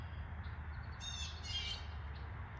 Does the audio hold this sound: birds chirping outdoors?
yes